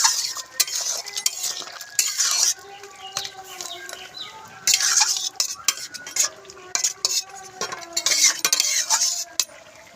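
Curry with sugar and garam masala stirred in a metal pot, repeated bursts of scraping and clinking from a spoon against the pan over a light sizzle, loud and close with short pauses between strokes.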